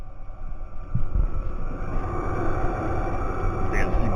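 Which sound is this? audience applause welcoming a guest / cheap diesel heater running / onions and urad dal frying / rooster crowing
cheap diesel heater running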